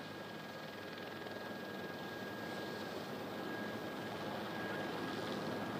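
An A320 airliner rolling out after an emergency landing with faulty landing gear, a steady loud broadband engine and runway roar heard from a distance, continuous and unbroken with no talk.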